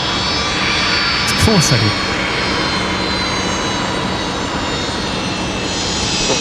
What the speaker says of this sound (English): So that is the 787 tonight.